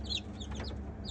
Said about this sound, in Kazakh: міне бізде мына жерде 12 балапан қосылды